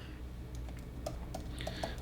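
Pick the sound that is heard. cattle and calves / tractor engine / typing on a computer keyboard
typing on a computer keyboard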